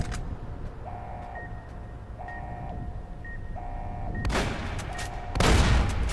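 Hunting shotgun in Fallout New Vegas firing two loud, sharp blasts, the second heavier, over a repeating electronic beep tone and low background hum.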